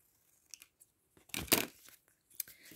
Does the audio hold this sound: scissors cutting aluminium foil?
yes